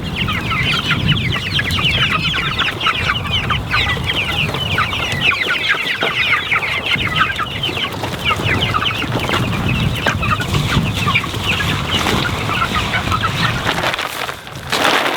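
Cornish chickens clucking in a coop, a steady, close chorus of overlapping clucks and murmurs from many birds that continues throughout.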